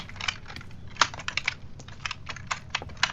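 Rapid clicking while a horror game is played, the sharp taps falling in quick irregular bursts, close and fairly loud over a low background hum, with no talking.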